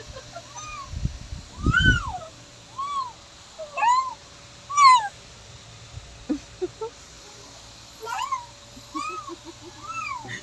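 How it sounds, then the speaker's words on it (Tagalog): A cat meows repeatedly in the background, several clear rising-and-falling cries spaced a second or two apart, with a few soft low thumps and faint chirps between them and no talking. "May pusa tayo background."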